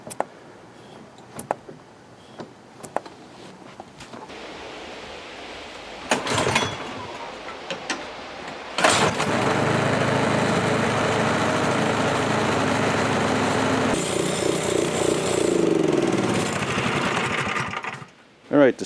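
A Toro 721 E snow blower engine is pulled over a few times, then catches and runs with a steady, loud mechanical drone before shutting off near the end, with voices heard intermittently.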